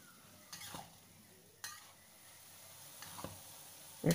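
Mee goreng noodles tossed in a frying pan, with a few scraping strokes of a utensil over a soft, steady sizzle, quiet and close, ending in a brief louder knock, with no talk.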